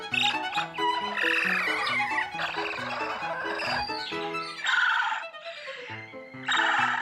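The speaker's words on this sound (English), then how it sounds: "The noisy chirping and trilling are happy, excited sounds, prompted by the bounty of grapes." Chimpanzees excitedly chirp and trill over grapes in an enclosure, giving loud, close, high squeaky calls in rapid overlapping bursts with brief pauses between them.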